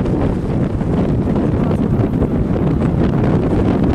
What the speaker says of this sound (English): the wind is insane today